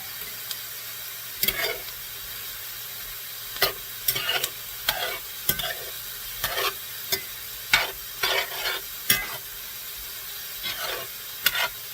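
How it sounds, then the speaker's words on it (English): Vegetables for pork noodle soup being stirred in a pan, with repeated scraping, clattering utensil strokes in irregular bursts over a steady sizzle, close and clear with no talking. "Stir the vegetables, and then in a little bit I'll show you how they look."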